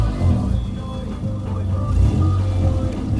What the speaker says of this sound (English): As soon as that car stops making noise here.